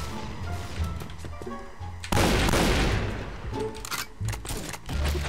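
Loud rapid gunfire and explosive bursts from the game PB, with a dense roar of shots that swells and then continues in choppy volleys.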